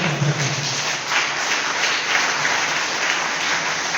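A school audience at a commemoration event in Channagiri claps in a dense, steady burst of applause that holds loud and even throughout, with no voices standing out.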